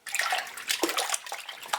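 Wild garlic leaves are swished and rinsed in a basin of water, giving a steady close splashing and sloshing with irregular bursts and no talk.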